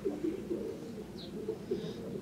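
A racing pigeon, a medium-sized speed flier of Van Dyck, Sherlockens and Heremans lines, coos softly in low rolling phrases, a few repeated soft calls close by with a faint chirp above and no talking.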